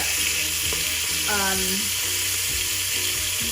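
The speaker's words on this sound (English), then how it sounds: "This is really good to brown the meat" Oxtail meat browning in a pan, a steady bright sizzle throughout with a short rising tonal squeak and soft scraping clicks; faint voice in the background.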